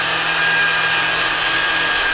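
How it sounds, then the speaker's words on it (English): Steady, close whirring drone of a power polishing tool working liquid glass polish across a window pane to remove hard water stains, continuous and even throughout. "The polishing tool's not jumping around all over the place."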